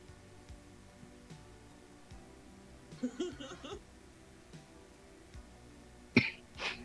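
A man, an electrician, coughs in two short bursts, one midway and a sharper one near the end, against a quiet background with faint voices.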